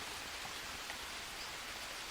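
Steady rain in the survival video game Green Hell, a continuous hissing wash of falling water with no distinct drops, even and moderately quiet throughout.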